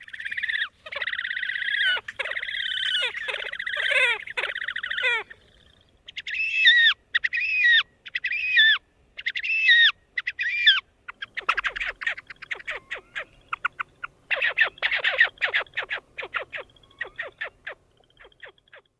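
A marsh bird of the prairie wetlands makes repeated raspy, whinnying and braying calls in rhythmic bursts, clear and fairly close, alternating between harsh buzzy phrases and rapid chattering series with short pauses between.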